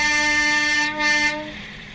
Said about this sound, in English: The train runs over nicely, we wave to people who blow their horns back at us